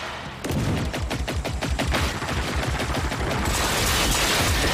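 Gunfire in the video game Generation Zero opens with a rapid, loud string of shots and then gives way to a sustained wash of noise, close and with no talk.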